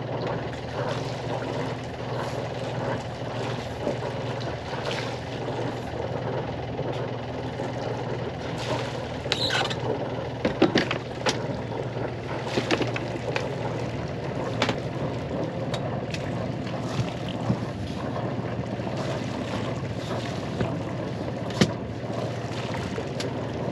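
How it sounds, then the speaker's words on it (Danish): Boat heading out of a harbour near Hiddensee, a steady low engine drone with water and wind noise, occasional light knocks and clicks over the hum, no voices. "Så sejler vi ud fra Witte."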